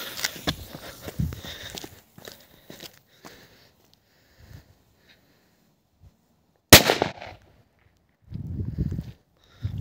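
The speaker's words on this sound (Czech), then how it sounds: "Petarda JC05." A JC05 firecracker goes off as one sharp, loud bang, followed by a brief tail, with scattered quieter sounds and movement noises before and after.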